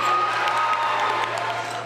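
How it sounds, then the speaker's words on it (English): A middle school awards ceremony crowd applauds a spelling bee award winner, with sustained, dense clapping and light cheering filling the room evenly for the whole short stretch. "Round of applause for our Spelling Bee Award winner."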